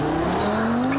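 An Audi RS3's 2.5-litre turbocharged inline five-cylinder engine drones loudly and up close, its pitch climbing steadily over a brief second-long stretch.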